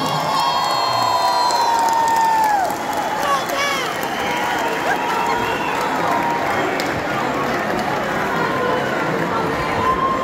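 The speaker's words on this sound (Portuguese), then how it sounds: "Uma salva de palmas para o nosso mestre." A large concert crowd cheers, whoops and shouts for a singer at a 30-year career celebration show, a loud, sustained roar of voices with scattered clapping throughout.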